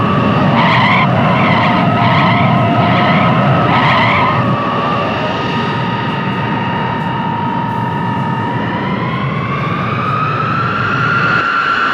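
An aircraft braking hard on a runway gives a loud, continuous roar with a strong tonal whine that pulses at first, then steadies and rises in pitch toward the end.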